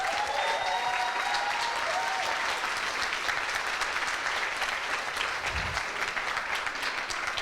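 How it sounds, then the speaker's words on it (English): An audience at a coding bootcamp demo day applauds warmly, a dense, even wash of clapping that runs steadily throughout, with a few faint tones and a brief low thump. "Let's have a huge round of applause."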